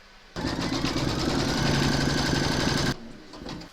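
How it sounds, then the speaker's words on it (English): An embroidery machine stitches a round with gold thread for an in-the-hoop notebook cover, giving a steady, fast mechanical whirring hum at close range that runs for about two and a half seconds, then stops. "I've loaded a gold thread into my machine, and we're now going to stitch round number 5"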